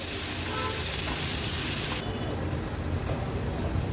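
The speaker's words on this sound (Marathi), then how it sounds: "कांदा व्यवस्थित तेलात परतून घेते आणि गॅसची फ्लेम लो करून आपण कांदा शिजवून घेणार आहोत" Chopped onion frying gently in oil over a low gas flame for a Marathi-style veg thali, giving a steady, close, soft sizzle with a brighter hiss easing off midway, no talk.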